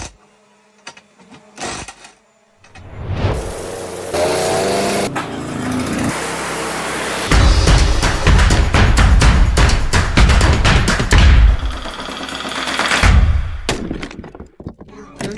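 A Dongcheng heavy-duty impact wrench loosens wheel nuts, bursts of loud rapid hammering rattle in close up over several seconds amid workshop clatter, then stop.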